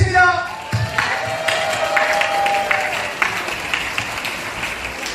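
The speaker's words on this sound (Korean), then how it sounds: "박수 부탁드립니다." Wedding guests applaud at the start of the ceremony, a full round of clapping from the hall with background music and a few voices underneath.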